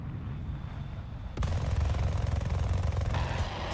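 Aircraft cannon fire from an F-20A Tigershark jet in War Thunder, erupting abruptly into a loud, rapid continuous burst over a low engine drone and running for a couple of seconds.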